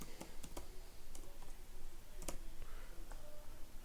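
Fingers tap out a quick, irregular run of crisp clicks on a computer keyboard, fairly close and not very loud.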